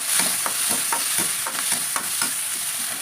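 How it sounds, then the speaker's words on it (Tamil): Shallots and fennel seeds sautéing in oil for a spicy Tamil egg curry, with a steady sizzle under repeated close stirring strokes from a spoon against the pan. "இது வந்து நல்லா பொன்னிறமாக வதக்கி எடுக்கணுங்க"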